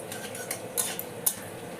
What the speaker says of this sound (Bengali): মশলাটাকে আমি এখন সুন্দর করে একটু ভেজে নেব